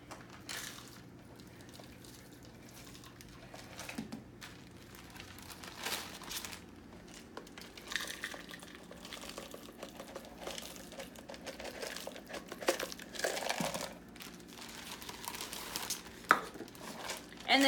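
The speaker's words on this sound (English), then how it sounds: "place them into the plastic bag for easy mashing so that I can coat the chicken" French's fried onions are dropped into a plastic bag for mashing to coat chicken, with crinkling plastic and light rustling clatter that comes and goes across a long stretch over a faint room hum.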